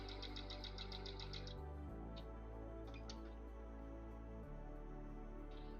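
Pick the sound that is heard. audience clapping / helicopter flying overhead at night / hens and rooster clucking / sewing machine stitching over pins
sewing machine stitching over pins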